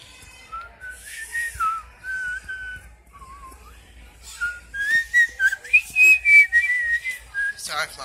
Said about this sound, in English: Sorry if my whistling's loud